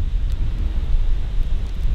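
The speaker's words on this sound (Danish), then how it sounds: "Sidenhen der er der kommet vind, og nogen vil nok sige, at den har været lidt til den friske side" Strong, fresh wind roars steadily while sailing on a fjord, a dense low buffeting rush with constant microphone gusting and no voices.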